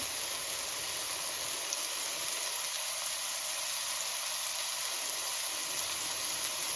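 Mushrooms browning in a frying pan give a steady, even sizzle and hiss that holds at the same level throughout, close and continuous with no talking.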